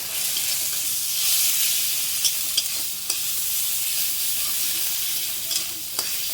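Spices, including chilli powder, sizzle steadily in a hot pan for a fish dish while a utensil scrapes and taps through them now and then.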